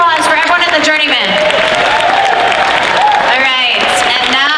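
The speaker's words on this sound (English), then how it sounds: "big round of applause for everyone in the journeyman" A costume contest crowd at Dragon Con 2017 applauds the journeyman category entrants, the clapping running steadily beneath an announcer's amplified voice.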